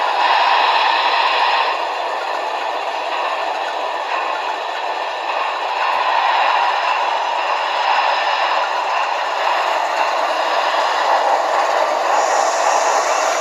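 A Broadway Limited Union Pacific Big Boy 4014 model steam locomotive runs under power against a fleet of model diesels, producing a loud, continuous mechanical whir with scraping rail noise and rattles, steady throughout, with no talking.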